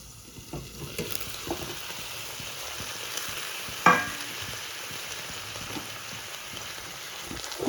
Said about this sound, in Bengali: ঢাকনাটা খুলে ভালো করে নাড়াচাড়া করে দেব।